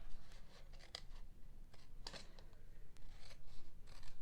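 Trimming the edge of a handmade gift box gives a few crisp, close cutting snips, two sharper ones standing out, over a soft steady background hiss in a quiet room.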